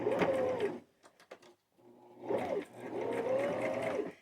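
Sewing machine running a zigzag stitch along an existing hem, a near whirring burst, a brief pause with small clicks, then a longer steady run.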